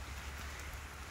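Steady rain pours down during a storm, a dense even hiss of drops striking surfaces nearby, with no voices.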